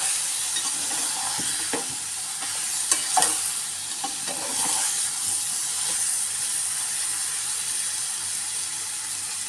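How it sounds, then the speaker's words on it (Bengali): Eggplant is stir-fried with dried lotia fish in a hot pan, giving a steady loud sizzle and hiss. Scraping strokes of the spatula break through the sizzle now and then. "বেগুনটা আমার কষানো শেষ"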